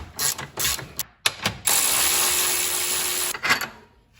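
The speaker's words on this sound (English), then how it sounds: "now I'm going to release the lower bolt holding the bracket, that's the steering rack bracket." A ratchet clicks in short bursts while loosening the steering rack bracket bolt on an Acura NSX during a front upright bushing job, followed by a longer continuous whirring run, close and distinct with no talk.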